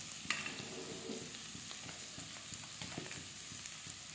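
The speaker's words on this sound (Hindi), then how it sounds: "इसे हम हल्का सा ही फ्राई करेंगे" Vegetables and noodles for veg chowmein stir-frying in a pan, a steady quiet sizzle with scattered scraping and stirring clicks throughout, with no talking.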